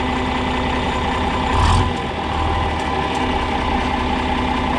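A John Deere 4010 tractor engine holds its lowest idle in first gear, a steady, close diesel drone with a brief swell partway through, no speech over it.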